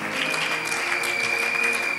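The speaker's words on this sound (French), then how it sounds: "on applaudit." At a Bible school graduation ceremony, the crowd claps for a graduate in a short, continuous burst of moderate applause over a steady hum.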